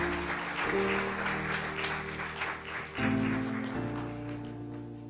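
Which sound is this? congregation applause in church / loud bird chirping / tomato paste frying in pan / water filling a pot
congregation applause in church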